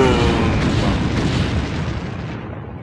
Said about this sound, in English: I want to watch this explosion.